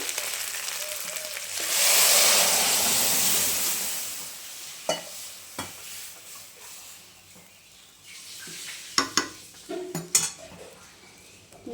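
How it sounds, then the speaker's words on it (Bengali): Mung dal tipped into a pan of frying ginger-cumin spice paste, giving a broad hissing sizzle that swells and fades, followed by several sharp clinks of a utensil against the pan, close by with no talk. "এবার আমি ডালটা দিয়ে দিচ্ছি"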